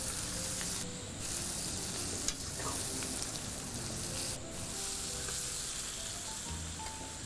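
Vegetables stir-fry in a hot pan in a home kitchen, a dense continuous sizzle with occasional stirring scrapes, close and steady throughout.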